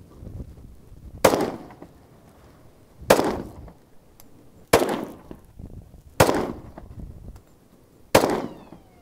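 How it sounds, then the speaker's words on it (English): A Walther PPQ 45 pistol fired downrange: five sharp, loud, separate shots about two seconds apart, each with a short echoing decay and no talking. "Next up, a few more rounds downrange."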